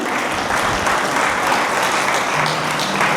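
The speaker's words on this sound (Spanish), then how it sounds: "Denle un aplauso al Señor" Church audience giving a loud, full round of applause during a service, a thick continuous clatter of many hands with a faint low hum entering partway through.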